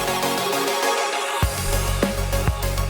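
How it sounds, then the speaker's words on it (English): Chopped, rendered slices of vocal reverb form a rhythmic part within a dense electronic track mix, with sharp stuttering cuts and a low-end drop near the middle, loud and continuous. "rendering a small part of the reverb of the vocals and chopping that up to create an interesting rhythm part"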